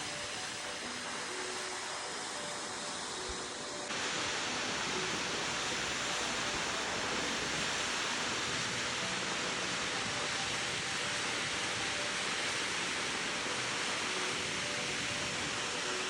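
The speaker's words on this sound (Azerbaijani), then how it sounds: "bayaqdan kadrlardan da gördüyünüz kimi Pəzməli şəlaləsinə gəlirdik" Rushing water from the Pəzməri waterfall, a steady broadband roar that holds throughout and swells louder after the first few seconds, with no voices over it.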